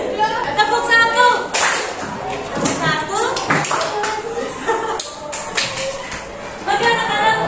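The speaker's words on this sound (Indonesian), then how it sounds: "Tepuk satu." Children in a classroom clap along to a call-and-response routine, with sharp, scattered handclaps in short bursts mixed in with children's voices and talk.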